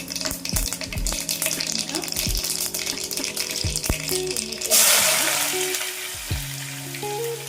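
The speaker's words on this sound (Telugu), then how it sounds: "ముందుగా మనం ఆయిల్ వేసుకున్న తర్వాత కొన్ని ఆవాలు వేసుకోవాలండి." Mustard seeds frying in hot oil for a brinjal curry, giving a loud, close sizzle with dense popping crackles and clattering utensil knocks, swelling into a hissing burst partway through, with brief voice fragments underneath.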